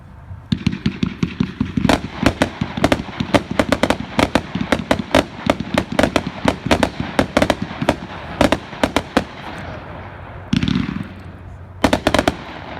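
An American Trucker firework cake from World Class Fireworks fires a rapid volley of sharp cracks and bangs, dense and loud for about ten seconds, then pauses and ends with a final short burst.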